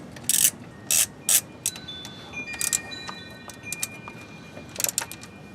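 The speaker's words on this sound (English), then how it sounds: "I'm just going to put the bottom bolt back in." Quick clicking of a ratchet snugging the bottom radiator bolt on a 1999–2004 Jeep Grand Cherokee, short bursts of rapid pawl clicks with metallic ringing between, close and fairly soft, with no talk.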